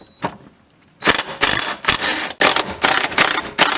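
An impact wrench removes the trailing arm bracket bolts on a BMW E36, hammering in loud, harsh bursts: one quick blip, then several longer rattling runs separated by brief pauses.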